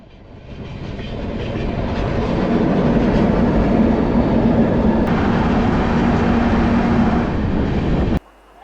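The Vistadome train from Visakhapatnam to Araku rumbles along the rails, a loud, steady roar with a faint tonal hum, continuous for several seconds before cutting off abruptly.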